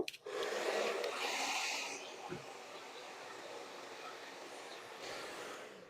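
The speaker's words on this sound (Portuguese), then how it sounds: "eu vou secar já com o secador no sentido que o fio está" A handheld hair dryer blows on styled hair, a steady rushing airflow that is loudest at first and then settles into a softer continuous hum.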